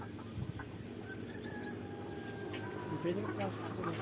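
Chickens clucking in a rural countryside yard, soft intermittent clucks and short calls at a distance under a low background hum, with people talking nearby.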